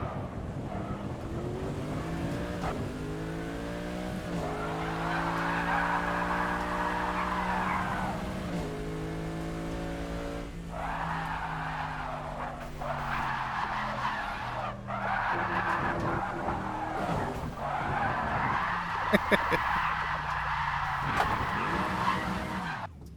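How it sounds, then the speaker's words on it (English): Race car in a racing video game sliding around a track, tires skidding and squealing almost continuously over a steady engine drone, loud and close, with repeated squeal bursts as the car slides. "sliding the car around like that does get heat, more heat into the tires"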